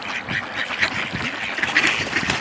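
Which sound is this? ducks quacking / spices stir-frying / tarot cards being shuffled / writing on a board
ducks quacking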